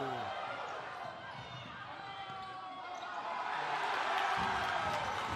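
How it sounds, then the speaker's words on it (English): Home crowd roars at a Wilson vs Roosevelt DCSAA high school basketball playoff game, a steady wash of cheering that swells louder midway, with ball bounces and a commentator talking over it. "This home crowd is into it."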